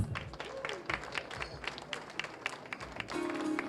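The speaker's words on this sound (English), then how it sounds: "Would you please clap for Lois?" A live audience claps for a long-serving staff member at a corporate anniversary celebration for an insurance company, a dense patter of scattered hand claps running throughout with some voices mixed in, moderately loud.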